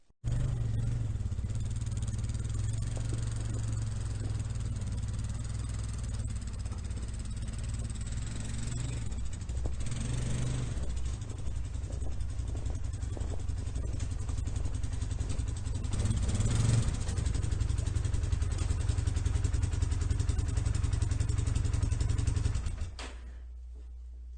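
A quad bike engine running steadily close by with a rough, rumbling idle and some rattling, revving slightly louder near the end before cutting to a lower hum.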